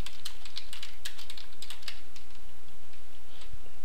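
Typing a message on a computer keyboard running Linux Mint, a quick irregular run of close, crisp key clicks in bursts, with a quieter stretch toward the end, no talking.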